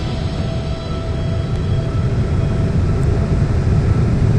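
Airplane in flight through a severe storm, losing altitude: a loud, steady broadband roar of engine and rushing air fills the whole stretch, rising slightly toward the end with no voices.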